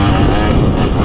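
A 2-stroke 300 dirt bike, either a 2024 Beta 300 Race Edition or a 2023 Husqvarna TX300, riding a GP/woods course. Its engine revs hard and loud at close range, a continuous raspy drone with a brief dip midway.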